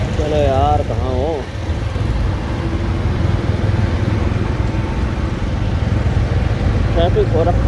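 Road traffic in a jam near a hill station drones steadily with idling engine rumble, while someone talks briefly at the start and again near the end.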